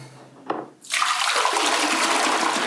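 Water rushes into a plugged sink after a brief clink, a loud, steady splashing pour that fills the basin close by and continues without pause.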